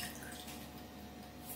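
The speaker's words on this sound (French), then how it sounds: "Donc je vais mettre de l'eau" Water running steadily into a pan to start a sugar and cinnamon syrup, a continuous faint wash of flow without any talk.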